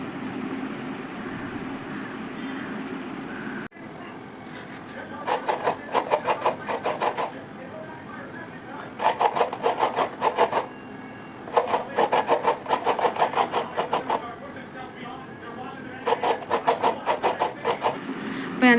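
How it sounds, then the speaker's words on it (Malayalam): Fresh coconut being grated on a coconut scraper at home, heard as bursts of fast, rhythmic rasping strokes in runs of a few seconds, with quieter gaps between them and steady background noise underneath. "അപ്പോൾ ഞാൻ തേങ്ങ ചിരണ്ടാനായിട്ട് ഇരിക്കുകയാണ്"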